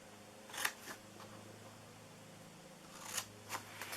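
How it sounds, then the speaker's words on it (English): Craft card being cut along score marks for a 3 x 3 card box, giving a few short, faint scraping snips spaced apart over a quiet background hum. "we're going to just cut in here on these score marks"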